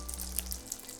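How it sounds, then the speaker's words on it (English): Homemade crispy spring rolls fry in hot oil, giving a soft, steady sizzle with faint crackles over one brief, quiet moment. "While this is finishing frying"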